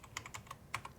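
A short burst of computer keyboard typing, several quick distinct keystrokes in an uneven rhythm, close and fairly quiet, with no talking.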